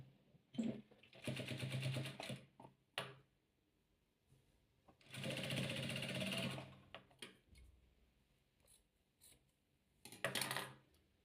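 A domestic sewing machine stitching patchwork quilt pieces runs in three separate bursts, the middle one the longest, with quiet handling clicks and rustles between them.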